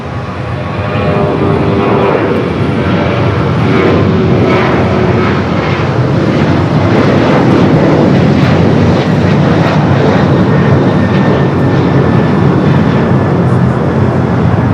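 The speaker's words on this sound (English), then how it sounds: "SpaceX 737-800 and now rolling down to 25 right" A SpaceX Boeing 737-800 jet takes off from runway 25 right at Los Angeles LAX, its engines roaring loudly and steadily throughout as it rolls and climbs, without pause or talk.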